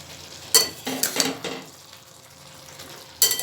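Fried paneer and potatoes for matar paneer are stirred in a pan, with a soft background sizzle broken by a few loud scraping bursts of the spatula, two close together early on and one more near the end.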